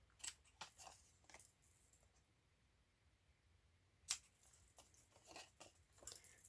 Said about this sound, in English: And then we'll just cut these.